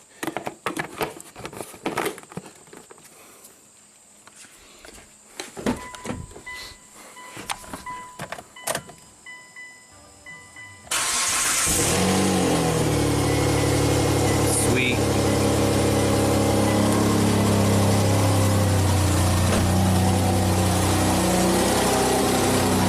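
Scattered clicks and clanks of work, then at about eleven seconds a Hyundai car engine with an exhaust leak catches and settles into a loud, steady idle until the end.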